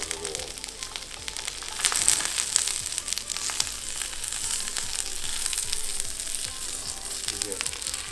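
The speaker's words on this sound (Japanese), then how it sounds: "なんかパチパチパチパチという音が、 普通のフライパンよりもなんかいい音がしてる" Oil crackles and sizzles steadily in a Turk Classic iron frying pan during seasoning, a dense, continuous spatter of small pops, close and fairly soft, with no talk.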